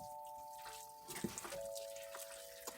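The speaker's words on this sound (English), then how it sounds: "I'll put some water in there." Water poured into a cooking pot for a Christmas dinner dish, a soft steady splash and trickle that swells for a moment midway, over a faint constant hum.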